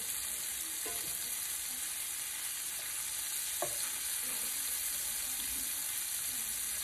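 Sausage fries in a seasoned skillet, giving a steady broadband sizzle with a few soft utensil taps and scrapes, fairly close and even throughout.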